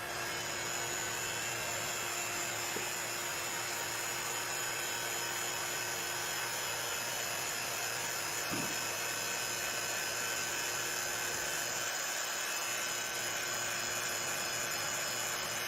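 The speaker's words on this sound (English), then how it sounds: "Then we're gonna cover it with the vacuum chamber and then turn it on" A vacuum pump drones steadily and evenly, a continuous mechanical hum evacuating a vacuum chamber placed over a beaker of water, with only faint brief knocks and no talk.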